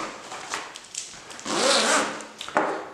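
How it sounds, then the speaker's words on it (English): A clothing zipper is run closed in a few short scraping pulls, then one longer, louder zip near the middle, close and crisp with no talking. "make sure to close it by running the zippers."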